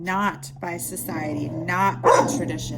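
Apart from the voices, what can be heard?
dog barking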